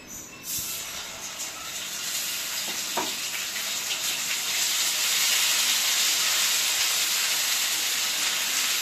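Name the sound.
ginger garlic paste frying in oil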